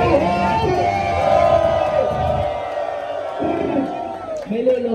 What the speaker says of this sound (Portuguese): Quem achou que o Romano ia bom terceiro round, levanta a mão e faz barulho